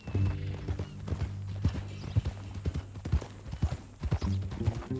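Horse hooves clip-clop in Red Dead Redemption II, a steady walking rhythm of close, distinct hoof strikes over a low background hum.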